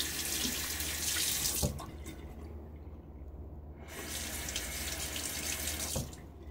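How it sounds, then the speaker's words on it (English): A bathroom tap runs hard while a face is rinsed after a wet shave, a loud rushing splash into the sink. It cuts off briefly midway, with drips and clinks, then the full flow returns. "I'm going to rinse my face."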